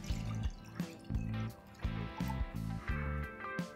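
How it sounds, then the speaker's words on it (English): Cold milk poured into whole-egg batter for a paratha, heard as close, repeated liquid splashes and drips in an uneven rhythm, with a faint background hum. "followed with cold milk."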